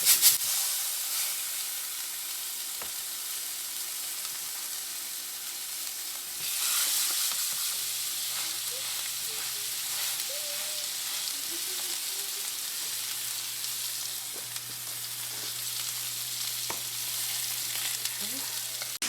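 Pork chops fry in a cast iron pan with a steady, loud, broad sizzle. The sound swells once when more meat hits the pan, and faint clinks sound underneath.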